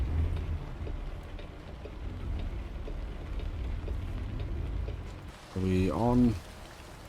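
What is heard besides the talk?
rain falling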